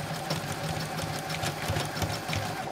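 A sewing machine runs steadily and close, zigzag stitching across the edge of ribbon trim on a double-layer tutu, with a continuous mechanical hum and rapid needle chatter and no talking.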